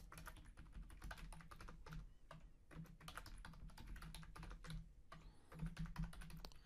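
A password is typed on a computer keyboard in a quiet room, a steady run of close, crisp key clicks with brief pauses between bursts.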